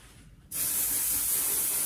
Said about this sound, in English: You spray hairspray on your face?